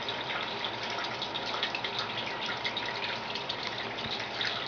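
Water falling and trickling from holes in a leaking cooler, a constant close hiss of dripping, splashing water running unbroken throughout.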